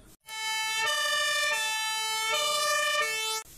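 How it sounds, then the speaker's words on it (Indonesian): A two-tone electronic toy fire truck siren wails on its own, alternating high and low pitches steadily and loudly, with a thin toy-like tone. "Ini adalah mobil pemadam kebakaran."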